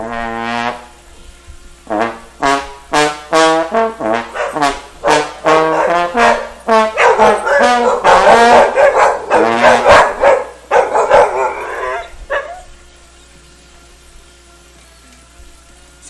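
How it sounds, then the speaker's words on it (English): Several dogs bark and yip loudly and rapidly against sustained trombone tones, the barking building into a dense cluster before fading to quiet. "So my dogs obviously hate the trombone."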